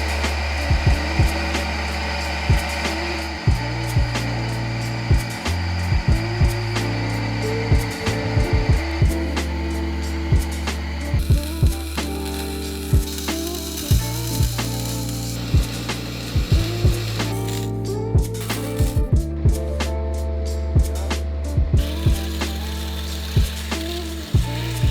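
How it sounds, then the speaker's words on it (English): A drill bores into a titanium throttle cable holder for a 3-rotor RX-7, its motor whining steadily and shifting pitch as the bit bites, with intermittent clicks and scraping taps throughout, loud and close. "this is my first time drilling or doing anything to titanium"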